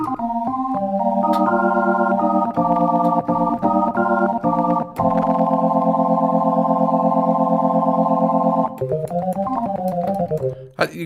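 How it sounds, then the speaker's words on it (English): A Studiologic Sledge 2.0 synthesizer plays an organ patch with chorus and reverb, sustained chords shifting through a short sequence, loud and clear, alone without talk. "that's a pretty passable organ, isn't it?"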